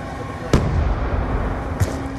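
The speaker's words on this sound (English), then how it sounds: "That was a good nade too." Grenade blasts in Call of Duty Black Ops 2 during a Search and Destroy match: two brief bursts, a sharper one early and a softer one later, set against steady game noise.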